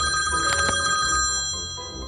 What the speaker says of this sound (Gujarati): ફોન શું આવ્યો તને